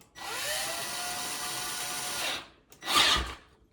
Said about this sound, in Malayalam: സ്ക്രൂ ചെയ്ത് ടൈറ്റ് ആക്കുക അല്ലേ?